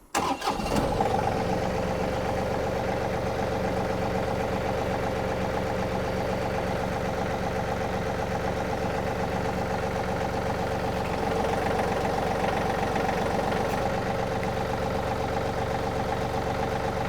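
A John Deere tractor engine cranks and catches with a sharp start, then settles into a steady, loud, even idle that runs unbroken to the end.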